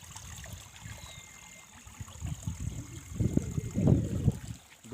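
A mountain stream in Uttarakhand flows and gurgles close by, a soft continuous rush with a few louder splashing bursts toward the end.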